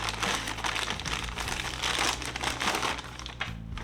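A plastic bag full of zip tie mounts for a guitar pedalboard is handled, giving steady loud crinkling and rustling throughout with no pause.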